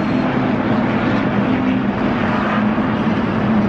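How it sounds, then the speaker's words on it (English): Many NASCAR race car engines run together at Las Vegas Motor Speedway, heard from near pit road on race day as a dense, steady, loud roar with a low hum, unbroken and with no talking. "Engines just got fired."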